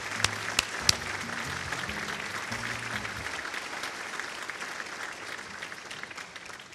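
A banquet audience applauds teachers of the year at a 2016 educator awards dinner, a steady wash of clapping sustained for the whole stretch, with a few sharp individual claps standing out near the start and faint low voices underneath.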